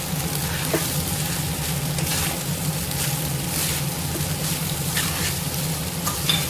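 Cauliflower fried rice made with basmati rice, frying on high flame, gives an even, moderate sizzle with occasional light stirring scrapes over a low steady hum, with no speech.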